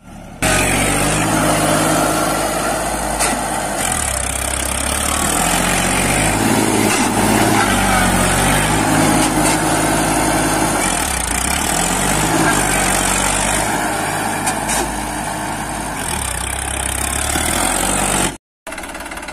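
A New Holland 3230 42 HP tractor works a 7 ft rotavator with both levers lowered, its engine a loud, continuous, close diesel roar with churning mechanical rattle that cuts out briefly near the end.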